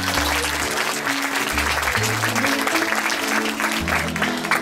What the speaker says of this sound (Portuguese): Queria pedir uma forte salva de palmas para cada um dos parceiros.